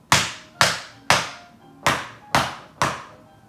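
Regular tap shoes with standard glued-on taps strike a floor six times, alternating ball and heel, each tap a sharp, close, ringing hit with a short decay, evenly spaced.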